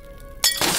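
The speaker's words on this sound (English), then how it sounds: "The office windows shattered as more intruders swung into the room from the dark night outside" Office windows shatter with a sudden loud crash of breaking glass, preceded by a brief faint tone and followed by a second burst of crunching, tinkling shards.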